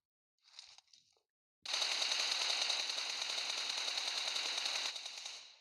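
Automatic gunfire in the video game PUBG: two short bursts, a pause, then one loud, close, sustained rapid burst lasting about three seconds, with no talk.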